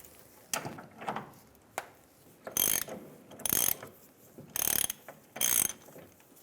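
Ratchet with a 15mm socket loosening a fuel tank strap bolt on a 2007-2013 Chevrolet Silverado, four short clicking bursts in an even rhythm after some quieter handling clatter, close and alone.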